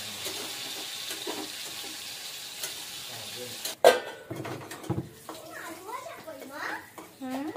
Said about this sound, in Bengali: এই যে ভাজাভাজি চলছে